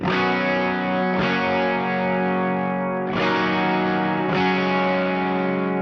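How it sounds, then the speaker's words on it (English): Two distorted electric guitars strum big, sustained pop-country chorus chords together, with swelling effects and a few chord changes, loud and dense. "both of those guitars together on the chorus sound really awesome"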